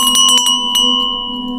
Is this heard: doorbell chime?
yes